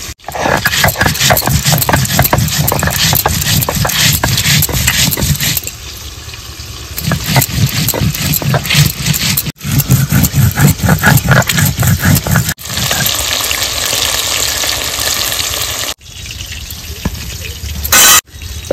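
Dried chillies and whole cumin being ground together in an electric grinder, loud whirring bursts close up with several short pauses between runs.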